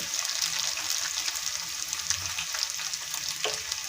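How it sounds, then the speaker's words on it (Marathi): Chili and potatoes fry in oil with a continuous bright sizzle, up close and moderately quiet, with light stirring clicks and a scrape near the end. No one speaks. "त्यानंतर आपण घालणार आहोत यामध्ये मिरची आणि त्यानंतर बटाटे"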